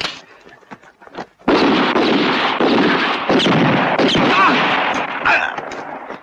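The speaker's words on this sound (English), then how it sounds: "Hold your fire." Gunfire in a western film erupts as a rapid, dense volley of shots under shouting, loud and sustained for several seconds after a few scattered quieter sounds.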